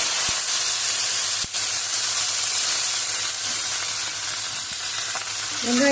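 Onions and mustard seeds fry in about four spoons of hot oil in a kadai, giving a close, steady sizzle and hiss with a few faint pops and stirring scrapes.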